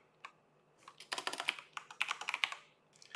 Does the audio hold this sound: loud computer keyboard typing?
yes